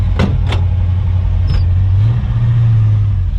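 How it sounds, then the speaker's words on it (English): A 1968 Plymouth Road Runner running steadily with a noisy transmission, its low engine drone continuous and close throughout, with a few brief clicks and knocks near the start. "The transmission's a little bit noisy."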